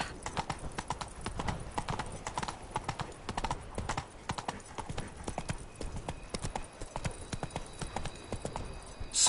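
Roach the horse in The Witcher 3: Blood & Wine trots along with a crisp, regular clip-clop of hooves that stays close and steady throughout.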